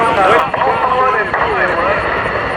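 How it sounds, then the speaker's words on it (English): Twin-tail jet-powered military aircraft flying at the Dayton Air Show, a loud roaring jet with shifting whine as it passes, under an announcer's amplified commentary. "This is a very unique twin-tail jet-powered aircraft with a tremendous amount of variety."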